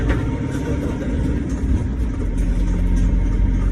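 A Yamaha R6 motorcycle engine runs steadily throughout, a continuous low rumble with no talking.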